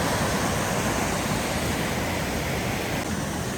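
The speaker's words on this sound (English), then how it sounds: "Look at this river section." A river section flows along the Sahalie and Koosah Falls loop trail on the McKenzie River in Oregon, giving a steady, full rush of water that holds at an even level throughout with no talk.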